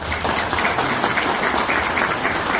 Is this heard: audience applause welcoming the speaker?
yes